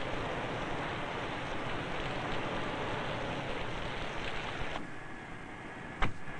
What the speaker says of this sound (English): Test the fit of windows, doors, and deck lid in this simulated downpour